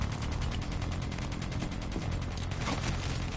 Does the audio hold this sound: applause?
no